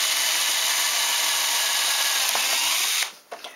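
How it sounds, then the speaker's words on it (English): A power drill whines steadily at high speed for about three seconds, then stops, followed by a couple of faint clicks. "I'm just going to drill the hole"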